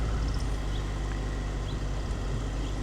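A stick-shift Geo Metro hums steadily from inside the cabin as it gently moves off on the clutch, giving a constant low engine drone with no speech.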